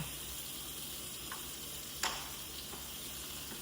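Baked BBQ chicken drumsticks on a cookie sheet give a quiet, steady sizzle as they are flipped, with a couple of light clicks and one sharper clack from a utensil or the pan.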